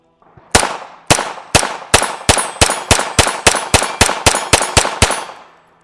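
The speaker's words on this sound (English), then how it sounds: "let's give it some rapid shots" Rapid string of about fourteen sharp gunshots from a Beretta M9 pistol chambered in .22LR, fired by Umarex with Monarch ammunition, each crack loud and close with a short ringing decay, spaced evenly at roughly two to three shots per second.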